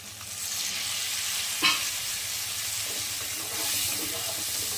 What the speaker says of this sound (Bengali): আদা রসুন বাটা দিয়েছি, পেঁয়াজ বাটা দিয়েছি, তেজপাতা দিয়েছি, দিয়ে আমি কষিয়ে নিচ্ছি ভালো করে